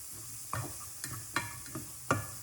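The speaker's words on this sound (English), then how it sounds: "So we're just going to mix that all in." A spoon stirs seasoning into a dish being cooked for Thanksgiving dinner, with four or five distinct scraping strokes at a steady rhythm over a soft background sizzle, close and fairly clear, with no talking.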